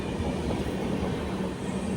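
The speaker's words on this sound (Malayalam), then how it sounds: "അങ്ങനെ നേത്രാവതി കടന്നു വരികയാണ്" Netravati Express rolling past a railway station on Munroe Island, a steady loud rumble of carriages close by with no pause for the full two seconds.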